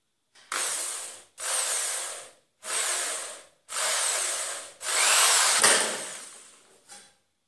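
A power drill with a 4.5 mm bit bores holes in five separate bursts, each a whirring grind lasting about a second, with short pauses between.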